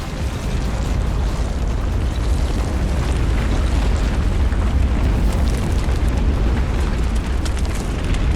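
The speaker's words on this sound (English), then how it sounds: "that started the cataclysmic eruption" A continuous, roaring rumble of volcanic eruption from Mount St. Helens fills the scene, loud and steady with no pauses, a dense wall of blast noise carrying faint crackles on top.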